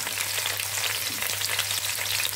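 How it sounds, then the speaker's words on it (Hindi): Chopped onions frying in hot oil in a home kitchen, a steady dense sizzle and crackle filling the clip with no talk over it. "अब हम सबसे पहले प्याज फ्राई करेंगे। हमारा ऑयल हो गया गरम।"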